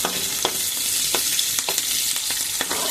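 Eggplant and onions fry in oil in a home kitchen for a Telugu brinjal curry, a steady close sizzle broken by sharp scraping stirs about every half second.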